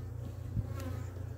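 Honeybees buzz close by during an inspection of a hive frame in Adana, a dense steady hum with a few louder passes from single bees. The clip is short and no one speaks.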